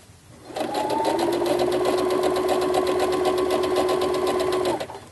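A sewing machine runs steadily, stitching a set-in sleeve into a shirt, one continuous even whir of close, loud motor hum lasting about four seconds with no talking.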